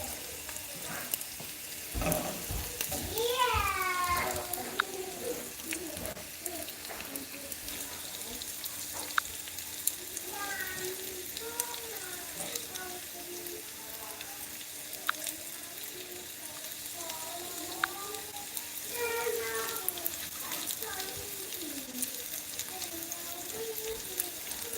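Milagro tortillas fry toward crispness in hot oil, giving a steady low sizzle that runs throughout, with faint voices murmuring in the background.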